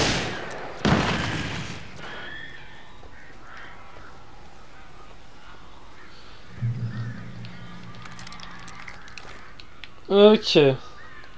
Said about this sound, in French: On va affronter les oiseaux.